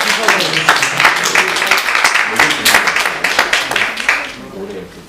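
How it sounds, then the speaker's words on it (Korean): Church congregation applauding together to encourage a department, a dense steady wash of many hands clapping at close range that tapers off at the end. "우리 같이 박수로 한번 부서 격려해 주면서"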